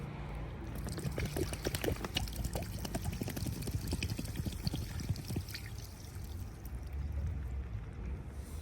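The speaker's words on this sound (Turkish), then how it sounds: "genleşme kabımızın içerisindeki çamaşır suyunu dökeceğiz" Bleach pours out of a car's coolant expansion tank, an Opel Corsa C, as a steady, close liquid stream that runs for several seconds and eases slightly near the end, with no talking.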